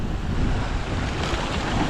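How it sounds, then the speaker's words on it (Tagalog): Large, rough sea waves off Rapu-Rapu crash and wash around a moving boat, heard up close as a dense, continuous roar with heavy wind buffeting the microphone. "Laki ng alon dito ang sasama ng ano alon parang alon doon sa Pacific pag may bagyo"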